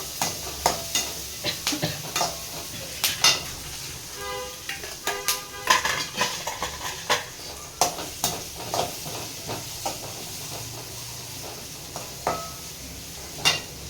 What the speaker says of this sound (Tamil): சின்ன வெங்காயமும் கருவேப்பிலையும் போடுறேன். நல்லா இதை வதக்கி விட்டு